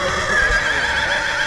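A horse whinnies loudly and steadily through a horseback parade at a patron saint festival in Mier y Noriega, with faint hoof clatter and crowd noise underneath.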